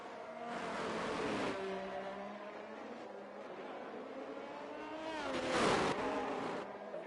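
Ferrari race car in a sim racing game around Hungary, engine droning steadily with gear-shift pitch changes and a louder surge as another car passes near the end.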